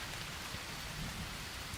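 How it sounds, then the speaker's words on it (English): Steady rain in the survival video game Green Hell, falling over a swampy jungle camp, a dense, even hiss with no breaks and no voices. "it's raining again"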